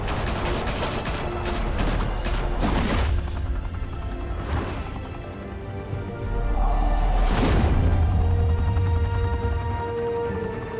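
Gunfire in the Batman Telltale game, several loud bursts of shots over a steady rumbling, mechanical background, spaced across the scene with echoing tails.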